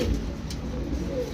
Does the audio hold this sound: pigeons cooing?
yes